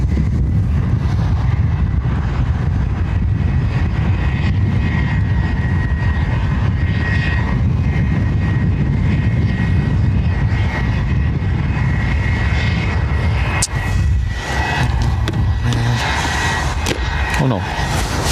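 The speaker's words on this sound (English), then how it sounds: "Emirates on final." Emirates jet airliner on final approach to land at Dublin Airport, a loud continuous low engine rumble mixed with wind buffeting on the microphone, steady throughout with a few brief knocks near the end.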